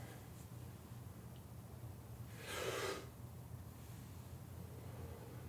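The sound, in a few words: imitated forceful martial arts breathing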